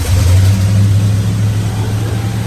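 An old classic car sits on an Iowa farm with its engine running at a steady, loud idle. A deep, rumbling drone holds throughout with slight revving swells, close by and without talk.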